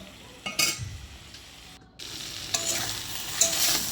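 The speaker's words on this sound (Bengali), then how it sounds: "আমি মশলাটা জাস্ট আর একটু ভালোভাবে কষিয়ে নেব যাতে সব কিছু ভালোভাবে ভাজা হয়ে যায়" Spices and vegetables frying and being stirred in a pan, a steady close sizzle broken by scraping stir strokes and a brief pause midway, with no talking.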